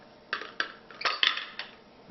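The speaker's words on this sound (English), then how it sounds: "The bottom screws off" The heavy glass jar of a Cuisinart SPB 600 SmartPower Deluxe die-cast blender having its bottom unscrewed, giving a run of light, close clinks and scrapes of glass against the base, sharp and irregular, with no talking.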